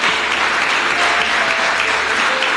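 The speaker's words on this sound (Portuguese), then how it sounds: "Por favor, aplaudam ao Senhor Jesus." A church congregation applauds during a Portuguese-language evening service, a dense, loud, continuous wash of clapping that fills the whole moment.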